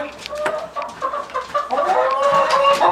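Hens cluck and murmur inside a hen house, a busy close chorus of overlapping calls that grows louder toward the end, with a rooster named Rocky sounding from nearby.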